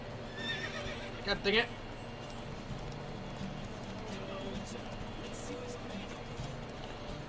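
Horse neighing and hooves clip-clopping during a horse race in the video game The Witcher 3, with a short whinny burst early on and steady game sound beneath, while a person speaks over it.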